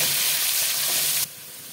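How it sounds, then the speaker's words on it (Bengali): Potatoes fry in hot oil with turmeric, giving a loud, even sizzle close by that cuts off abruptly near the end, leaving a quieter hiss. "আলু ভাজার সময় তেলে একটু হলুদ দিলে তেলটা ছিটকায় না"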